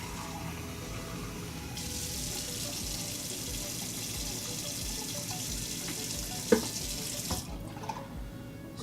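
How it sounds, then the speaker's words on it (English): Hot tap water runs steadily from a faucet into a sink, a continuous rushing stream heard close up and alone, with a few small clinks near the end as the flow cuts off. "tap water."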